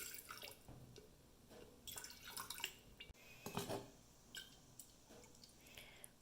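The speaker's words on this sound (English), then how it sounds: "we will add water and do the separation process" Water poured into a glass jar of crushed shale makes faint splashing and trickling sounds, with light clinks and drips that come and go, near and quiet with no talking.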